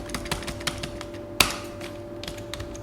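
Typing on a computer keyboard: scattered soft key taps close up in a quiet room with a steady hum, one sharper, louder keystroke midway.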